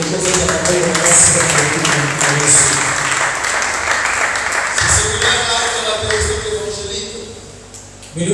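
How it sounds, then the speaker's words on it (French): A church congregation applauds and cheers in a steady, dense roar of clapping that lasts throughout, loud and close, with a voice speaking over it. "Est-ce que tu peux acclamer tes forts pour la gloire?"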